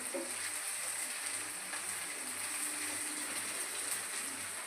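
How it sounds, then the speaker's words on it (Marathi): Ginger garlic paste fries among golden onions in a pan, giving a steady, soft sizzle with faint crackles, close and even throughout with no voices. "थोडंसं आलं लसणाची पेस्ट पण भाजून घ्यायचंय."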